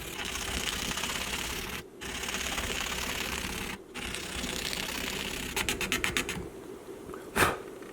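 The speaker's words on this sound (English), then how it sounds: "now I'm going directly to finishing using a razor blade" A razor blade scrapes along frets on a maple guitar fingerboard, giving a continuous close rasping with two brief pauses and then a quick run of rapid scraping strokes near the end.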